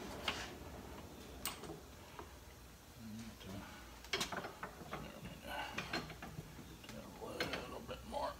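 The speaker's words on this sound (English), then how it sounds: "Get our bolts tightened up." Bolts being tightened with a ratchet while fabricating a tool tray, a series of rapid clicking pawl bursts at close range, irregular in rhythm, with quiet talk and shop noise between them.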